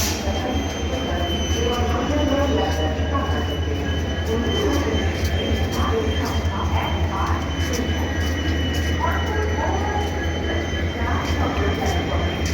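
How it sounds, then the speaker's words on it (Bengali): A Howrah–Ghatshila passenger train moves through Kharagpur station with a loud, continuous rumble, rattling carriages and high metallic wheel squeal, close by and steady throughout. "হাওড়া থেকে এসে এটা গাড়ি এখন ঘাটশিলা দিকে যাচ্ছে"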